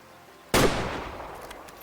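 A sniper rifle in Way of the Hunter fires a single sharp, loud shot at a buck 160 yards out, followed by a decaying echo tail in the quiet.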